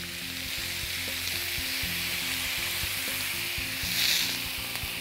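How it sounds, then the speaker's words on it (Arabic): Meat chops sizzle loudly in a frying pan as they are flipped, a dense continuous crackling hiss with a brief surge of spitting near the end, close and without talk. "طيب خلينا نقلب الريش بتاعتنا."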